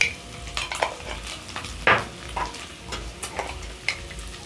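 A spoon stirs salt, ground ginger and black pepper into pork wet fry sizzling in a pan, with several distinct scraping strokes over a soft, steady sizzle.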